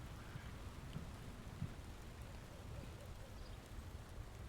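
Steady rain with a gentle breeze in the video game Hogwarts Legacy, a continuous soft hiss with faint low rumbling, even and unbroken throughout, fairly quiet.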